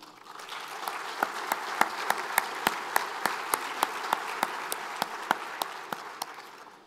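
An audience at the MEDays 2022 conference opening ceremony applauds steadily, with individual sharp claps standing out in an even rhythm over a dense, moderately loud wash of clapping.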